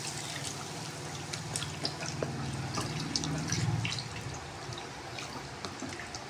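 Water runs and drips from a tap while tofu is rinsed in a home kitchen, trickling softly and steadily with a few brief splashes and clinks.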